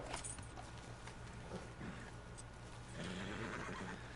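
A horse in Red Dead Redemption II whinnies loudly and shakily, with a second neigh rising near the end over a steady low hum of game ambience.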